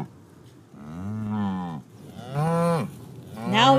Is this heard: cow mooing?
yes